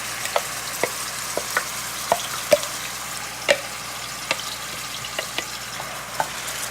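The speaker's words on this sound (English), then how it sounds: "Mix that up, let it fry." Oil sizzles steadily in a pan as blended pepper sauce ingredients fry, with sharp pops and crackles bursting out at irregular intervals, close up and without talk.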